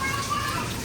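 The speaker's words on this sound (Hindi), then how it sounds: "बहुत ज़्यादा बारिश हो रही है" Heavy monsoon rain pours down in Karachi, a dense continuous hiss that is loud and close throughout. Indistinct voices are mixed into it.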